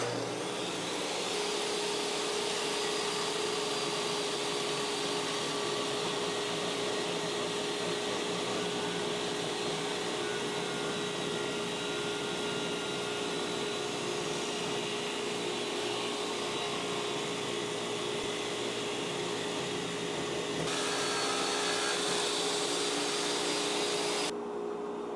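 A Kobalt TS10601 table saw runs with its dust collection attached, producing a loud, steady motor whine and airy rushing hiss that holds constant, with a brief shift in tone near the end.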